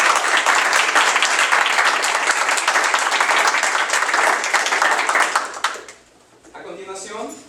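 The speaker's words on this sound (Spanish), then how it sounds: "Demos un fuerte aplauso a Ramón" Audience applause at a science-and-religion debate, a dense, steady wash of clapping from many hands that carries on for several seconds, then thins and fades out, leaving quieter room sound with a voice starting to speak.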